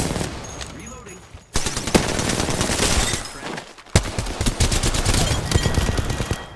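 Rapid automatic gunfire in the video game Apex Legends, dense bursts of shots with a brief lull, then another sustained volley, loud and close.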